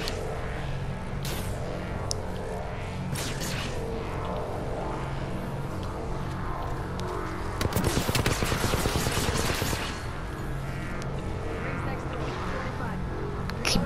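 Rapid video game gunfire rattles in dense bursts beneath excited talking from several players, with a louder, busier stretch of shots in the middle of a hectic final-circle battle royale fight.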